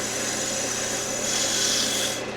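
Sandpaper rubs against a turned wooden ring holder spinning on a lathe, a continuous close, loud rasping hiss over the machine's steady whir, easing off at the very end.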